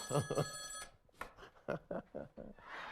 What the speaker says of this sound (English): I believe I hear the phone ringing